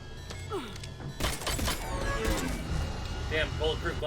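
In the Mass Effect 3 video game, gunfire strikes bulletproof glass: a sudden loud crashing impact followed by a dense, noisy clatter of hits, with game voices and music around it.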